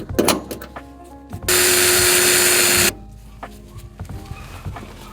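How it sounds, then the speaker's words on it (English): During a window motor repair, a power drill cuts a small hole in a truck door in one loud, steady burst of about a second and a half, framed by scattered clanks and handling knocks. "I'm gonna drill a little hole right here so that it exposes the bolt and it makes it easier for me to replace."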